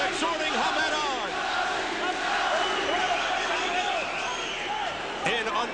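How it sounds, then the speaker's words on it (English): A boxing arena crowd roars continuously, urging on Naseem Hamed late in the second round of his fight with Daniel Alicea, with dense shouting and cheering at a steady, loud level throughout. "The crowd exhorting Hamed on."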